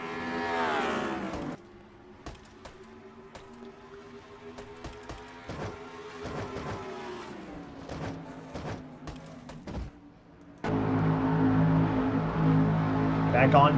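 Stock car engines in a racing video game, the NNSCRA Castrol GTX Cup Series Bass Pro Shops 300, drone and rev steadily as the field returns under the green flag, growing louder near the end, with a commentator talking throughout.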